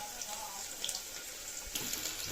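Onion and dry red chillies frying in oil for a greens-and-dal dish give a steady, close sizzling hiss, with scattered sharper crackles and pops throughout.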